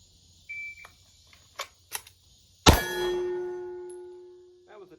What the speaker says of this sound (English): So we're going to be running the timer